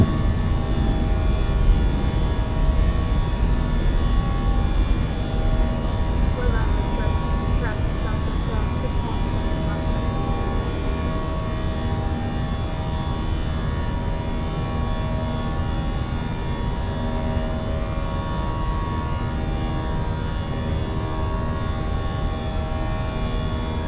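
Airbus A320 jet engines roar at takeoff and climb in the Fenix flight simulator, a loud, steady broadband drone holding evenly throughout with a faint engine whine on top.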